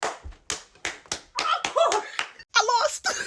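A person claps their hands in short bursts, imitating how someone else once clapped, with sharp close slaps in an uneven rhythm and some vocal sounds mixed between them.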